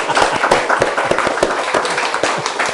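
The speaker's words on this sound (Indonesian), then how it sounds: "Jadi kita kasih tepuk tangan untuk semangat seperti ini." Audience at a talk claps together, loud and close, with individual sharp hand claps standing out in an uneven rhythm over a continuous backdrop of applause.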